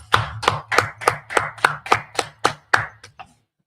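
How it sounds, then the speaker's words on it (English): A small group at a religious class claps in unison, about a dozen sharp, evenly spaced beats that fade and taper off at the end, close and clear with no talk. "let's clap it up"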